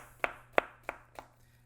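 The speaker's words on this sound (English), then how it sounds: "chop it into little dice." Four crisp knife chops dicing zucchini on a cutting board, evenly spaced and fading slightly, with no talking.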